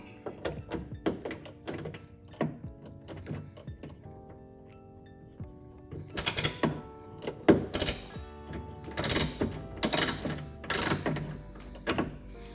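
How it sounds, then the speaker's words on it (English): Socket wrench with a 10mm socket working trunk latch bolts on a Kia Optima, giving repeated close clicking ratchet strokes and metallic clunks, sparse at first and then denser, louder bursts. "to get those bolts out, we need a 10mm socket and a wrench"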